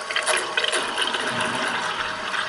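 Brushed RC motor spinning while submerged in water, churning out a dense, steady watery hiss and gurgle. The sound is close and continuous, with no talk.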